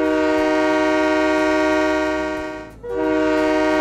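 A work train's horn in Train Mechanic Simulator 2017 blows one long, loud, steady chord for nearly three seconds, dips briefly, then sounds again, with no talking over it.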